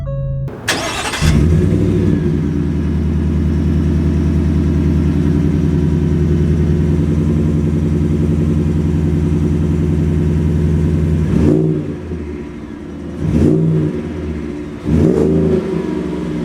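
A Shelby F-150 Off-Road pickup starts up with a sharp crank and settles into a steady, loud, close idle rumble, then gives several short revving surges near the end as it moves off.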